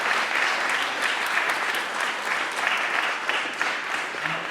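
An audience at a local panel discussion on sustainability claps steadily, a dense, even wash of applause held at a consistent level throughout.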